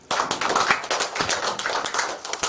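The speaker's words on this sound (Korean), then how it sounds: "박수 부탁드리겠습니다" Applause from an audience at a Liberty Korea Party welcoming ceremony for a newly recruited foreign-policy expert, a dense steady patter of many hands clapping for about two and a half seconds.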